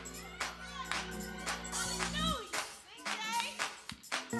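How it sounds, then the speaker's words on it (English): A church congregation clapping along in steady rhythm at a Tuesday night service, crisp hand claps over an organ or keyboard backing, with a preacher's voice leading the room. "clap your hands like this with me"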